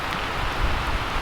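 Rain pours steadily during a cabbage harvest on a farm, a dense, even hiss close to the microphone with no pauses and no voices.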